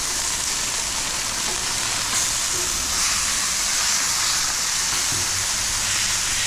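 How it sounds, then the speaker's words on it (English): Pork chops searing in oil over high heat at a campsite, a steady, bright sizzle and hiss running continuously throughout with a few faint clinks underneath. "Hear that sizzle."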